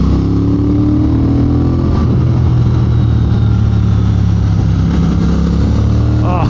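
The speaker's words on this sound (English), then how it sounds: "Rev that little speed twin. Make it sing." A Triumph Speed Twin motorcycle engine revs steadily under heavy wind rush while riding on the road, a continuous loud drone with slight rises in pitch.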